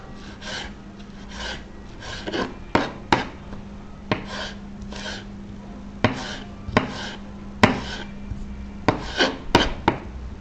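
A sharp knife cutting food on a board for Jamaican brown stew chicken, a series of close, crisp slicing strokes and knocks at an uneven rhythm, each a quick rasp ending in a tap against the board.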